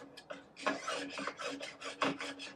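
A file rasps back and forth along the base edge bevel of a new ski, a steady series of close, gritty strokes about every quarter second, with no talk.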